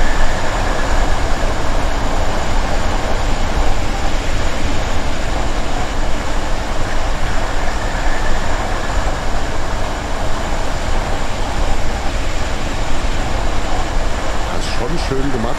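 A train passes in the railway simulator Train Sim World 2, a steady, loud rumbling roar that holds for the whole stretch, with voices talking over it.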